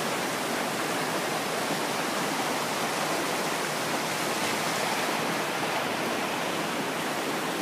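Water pours over a waterfall in a park, making a constant, dense rushing roar that stays even and close throughout with no voices.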